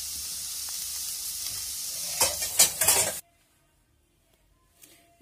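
Fox nuts and cashews roasting in a pan, a quiet steady sizzle with a few scraping stirs and light clatters before it cuts to near silence, then a faint knock at the end.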